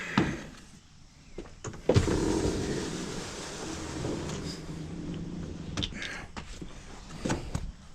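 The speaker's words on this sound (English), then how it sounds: "rolled down the windows" Electric power windows whirring down inside the cab of a 7.3 diesel truck, several motor runs with a louder stretch in the middle and faint clunks and rustles around them, no talk.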